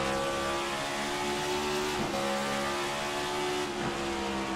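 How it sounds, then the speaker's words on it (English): A stock car engine in a cup series race at Richmond revs up through the gears to fifth in a racing game, a loud, steady high whine with two brief dips where gears shift, and no talk. "You just heard the rev up to 5th gear"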